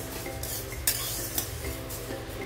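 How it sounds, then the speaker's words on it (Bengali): Dal (lentils) being dry-fried and stirred in a pan for dal palak: soft continuous sizzling with scraping spoon strokes and two sharp metallic clinks against the pan, close and fairly quiet. "এখনো ভালো করে ভেজে নেবো আর একটু।"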